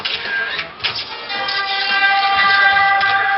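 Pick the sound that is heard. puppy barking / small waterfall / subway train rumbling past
subway train rumbling past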